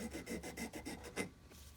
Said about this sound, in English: taking a 3/4 file, and I'm going to file that little nubby off